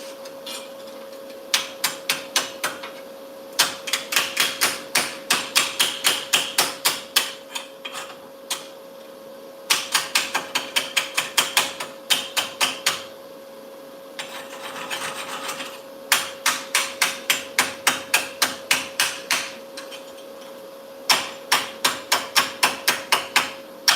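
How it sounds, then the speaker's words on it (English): Chipping hammer knocking slag off a gasless flux core weld bead, in rapid bursts of sharp metallic taps separated by short pauses, close and fairly loud over a steady background hum. "Let's get the slag off."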